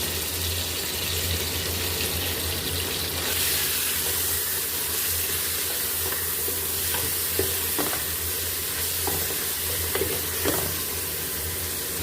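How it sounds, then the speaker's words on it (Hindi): Beef mince frying with ginger and green chillies, a steady close sizzle running the whole time with occasional scrapes and knocks of a stirring utensil against the pan and no speech. "हमने ये बीफ का कीमा ले लिया, वो इसमें हम डाल देंगे और इसको भी हम अच्छे से भून लेंगे।"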